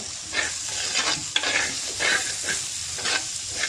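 Tomatoes sauté in a pan while a spoon stirs them in repeated scraping strokes roughly every half second, with a steady sizzle underneath; close and moderately loud, no talking.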